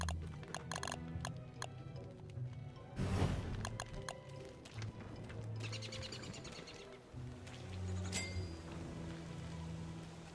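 Rain falling in the Don't Starve Shipwrecked game world, a soft steady patter with scattered ticking drops and bird calls over quiet ambient music, fairly faint.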